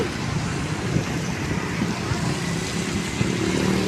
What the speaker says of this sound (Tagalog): Mga tao nang dumadaan at mga sasakyan.